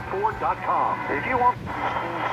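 A talk radio broadcast at 1040 on the medium wave band, received on a Tecsun PL-330, the voice narrow and tinny as if tuned in on an AM dial, with a steady hiss of static underneath.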